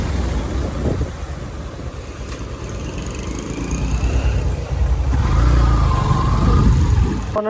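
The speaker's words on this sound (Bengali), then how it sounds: "এই যে আমার ছেলে বাইক চালায় আসতেছে" A motorcycle ridden by a young rider approaches outdoors, its engine note rising steadily and growing louder toward the end as it draws near, with no talk over it.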